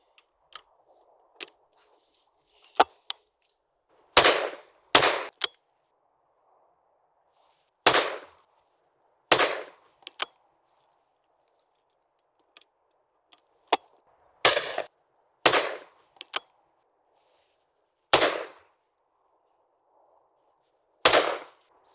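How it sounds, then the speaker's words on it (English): AYA side-by-side shotgun firing game cartridges outdoors: a series of sharp, loud individual shots, often in quick pairs, spaced irregularly over a quiet background with a faint hum. "Let's shoot a few more."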